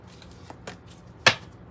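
Tarot cards being shuffled by hand, a few soft riffling rustles and taps building to one sharp, louder card snap near the end, close up in a quiet room.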